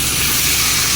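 Eggplant pieces sizzle in a pan alongside fried potatoes, giving a brief, steady, close-up hiss of hot oil with no break or talking.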